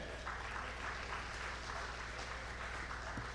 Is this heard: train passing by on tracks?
no